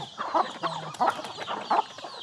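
Several five-month-old young hens cluck nearby in short, repeated bursts, with a steady rhythm of soft calls.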